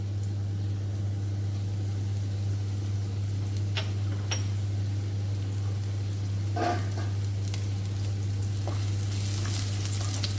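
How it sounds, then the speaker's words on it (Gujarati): Garlic and green chillies sizzling in hot oil for masala pasta, a steady close hiss under a constant low hum, with a few brief crackling pops scattered through. "તેલ ગરમ થઈ ગયું છે આપણું, લસણ અને મરચાં એડ કરી દઈશું।"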